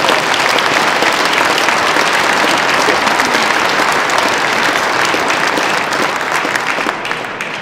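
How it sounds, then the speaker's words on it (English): Loud, dense applause from a rally crowd at the Iowa Statehouse, honoring volunteers, sustained close and steady before easing slightly at the very end. "you guys, a big round of applause to all the volunteers"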